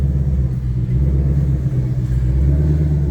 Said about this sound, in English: It's just like a freaking manual transmission taking off.